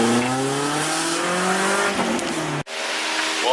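BMW E36 drift car engine under load while driving, a loud droning rev that climbs and falls through gears before cutting off abruptly near the end.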